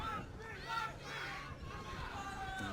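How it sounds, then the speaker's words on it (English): Spectators at a schoolboy rugby league match between VUSC and Hallam Senior College make a distant, murmuring crowd roar with scattered raised voices, steady and fairly faint throughout. "You can hear the crowd getting in and behind their teams."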